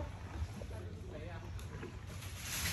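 Hand-rowed boat moving along the Mekong River, soft water sloshing and paddle splashes under faint wind, quiet and distant, with people talking softly in the background.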